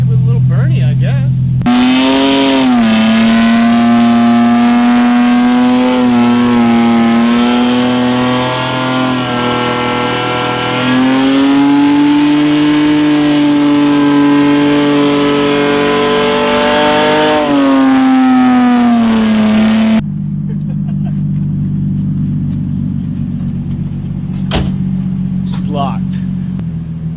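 A drift car with a welded differential revs hard and accelerates, its loud engine note climbing and holding in long sustained pulls, then dropping off near the end to quieter idle with a few sharp clicks.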